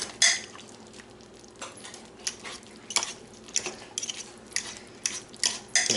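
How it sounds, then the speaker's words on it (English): Metal forks scrape and clink against a pot of cooked Mississippi chicken as it is shredded, irregular close taps and scratches with soft pauses between strokes. "make sure this is all shredded up."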